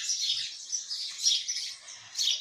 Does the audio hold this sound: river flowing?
no